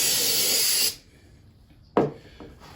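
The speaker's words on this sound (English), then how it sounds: "So all we do is spray it down with brake cleaner and give it a good clean out." Brake cleaner sprayed onto an engine part to clean out an oil leak, a harsh hissing burst of just under a second, then quiet, then two short follow-up spritzes.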